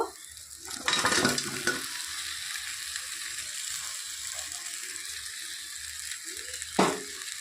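Katla fish heads are stirred with rice and potatoes in a pan over a soft frying sizzle, with a couple of louder scraping bursts of the spoon near the start and another near the end.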